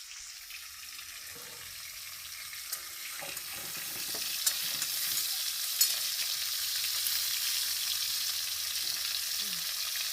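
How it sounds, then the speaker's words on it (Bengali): Fish frying in plenty of oil in a pan, a steady soft sizzle that builds slightly over time with a few faint clinks, no talking. "মাছটা ভাজা হতে থাক।"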